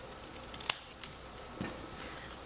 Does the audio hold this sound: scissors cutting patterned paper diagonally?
yes